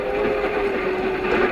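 A commuter train rolls along as a radio drama sound effect, a steady rumble under a sustained whistle-like tone, loud and continuous.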